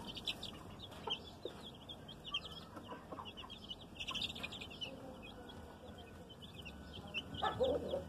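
Nine-day-old laying hen chicks, about thirty of them, peeping: a constant bright chorus of high chirps with scattered louder peeps, close by and steady.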